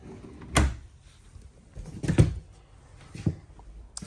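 A pots and pans drawer low in the kitchen of a 2022 Alliance Avenue 32RLS fifth-wheel RV thuds shut, with a few softer knocks and clunks following in a quiet room.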